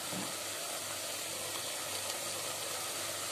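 Chicken pieces sautéing in hot oil for chicken pulav: a steady, close sizzling hiss runs evenly throughout with no talk.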